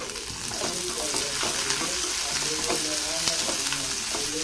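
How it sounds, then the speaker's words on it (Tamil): Sliced onions and curry leaves sautéing in hot oil for poori masala, a loud, continuous sizzle with repeated scraping and clinking of a spoon stirring in the pan, close and without talk. "இது கூடவே கொஞ்சமாக கருவேப்பிலை சேர்த்துக்கலாம். சேர்த்துட்டு அதையும் நல்லா வதக்கி விட்டுக்கோங்க."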